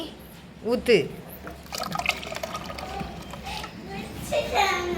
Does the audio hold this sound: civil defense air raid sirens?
no